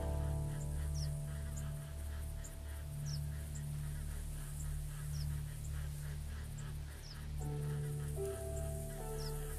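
Several geese honk in a hunting video game, scattered calls over a low steady background hum, growing denser and louder toward the end as the flock calls together.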